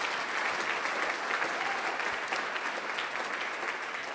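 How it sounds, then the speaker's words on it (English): Audience at a civic gathering applauding the shared space, organizers, tech crew and volunteers, a sustained wash of many hands clapping at a steady level for several seconds, with a faint crowd murmur underneath. "a big round of applause for the shared space that we've all created"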